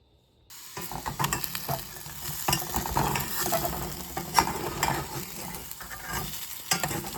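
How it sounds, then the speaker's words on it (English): Purslane (verdolagas) frying in olive oil is stirred in a pan: a sudden onset of steady sizzling with repeated scraping and stirring strokes, close and moderately quiet, with no voices. "I'm gonna put a little bit of olive oil on, and I'm gonna stir it up."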